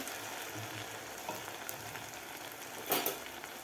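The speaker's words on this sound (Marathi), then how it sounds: "वडे तळून घ्यायचे आहेत" Urad dal vadas deep-frying in hot oil, a steady soft sizzle with a brief louder crackle near the end, heard alone at moderate distance.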